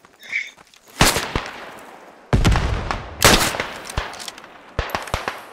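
Bolt-action rifle gunshots in the video game Beyond the Wire: several loud, sharp cracks with some overlapping bursts and echoing tails, fired in irregular succession.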